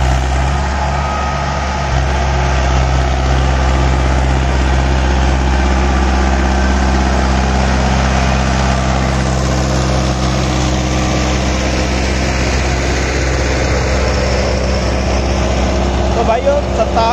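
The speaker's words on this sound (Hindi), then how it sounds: "भाई ये 57 HP का ट्रैक्टर है, 8 फुट का रूटावेटर बढ़िया आसानी से ही चलाना चाहिए" A 57 HP Mahindra Arjun 605 Ultra tractor drives an 8-foot rotavator. Its engine gives a loud, steady, close diesel drone with a strong low rumble and a constant grinding churn of soil throughout.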